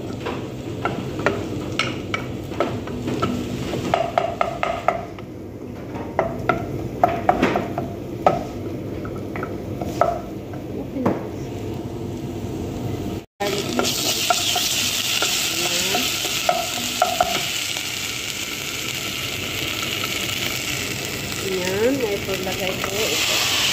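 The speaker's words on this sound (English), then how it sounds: "Lagyan ko na ang garlic paste." Garlic paste sizzles loudly in a hot frying pan while being stirred, a steady crackling fry broken by scraping strokes, with a brief cut partway through after which the sizzle grows brighter and more intense.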